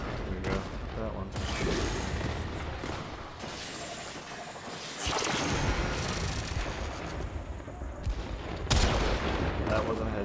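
Rapid gunfire from a video game, with long-range sniper headshots on enemies at about 100 m: sharp repeated shots pop over a busy, steady game soundscape, with a louder burst near the end.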